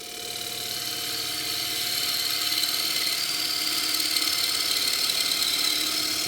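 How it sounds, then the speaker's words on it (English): A wood lathe spins green elm while a tool makes a push cut, riding the bevel, producing a steady close whirring hiss with a constant motor hum, gradually growing slightly louder and continuing without pause. "I'm going to show you nice push cut"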